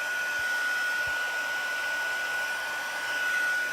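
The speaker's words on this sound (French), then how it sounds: "avec le fer chauffant, on vient faire chauffer ça" A heat tool blows hot air steadily while warming a piece for a card-making water-drop background effect, giving a constant close whoosh with a thin whine and no talking.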